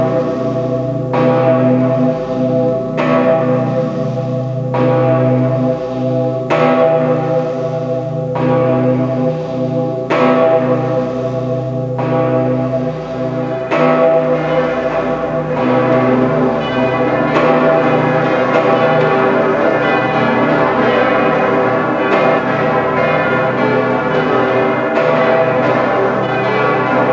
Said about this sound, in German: nur selten läuten die Glocken gemeinsam